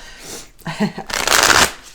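Enchanted Map oracle cards are shuffled by hand in a few quick, close riffling bursts, the last one longest and loudest.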